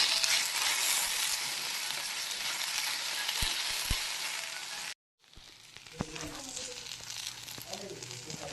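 Food frying in a pan with about a spoonful of oil gives a steady, close, bright sizzle that cuts off briefly, then returns softer with scattered spoon scrapes and clinks.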